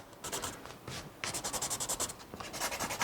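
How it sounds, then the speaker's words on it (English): A graphite pencil held almost flat rubs quickly back and forth across the back of a sheet of paper, making close, rhythmic scratchy strokes with a brief pause partway through. "So you can see I'm just laying down a bunch of graphite over the lines I want transferred."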